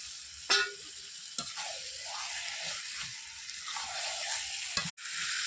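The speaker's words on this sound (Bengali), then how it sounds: "ভালোভাবে মাংসটাকে কষিয়ে নেব।" Chicken marinated in salt, turmeric and mustard oil, stir-fried with fried potatoes in a pan, sizzles steadily up close, with occasional sharp scrapes and clicks as the pieces are stirred.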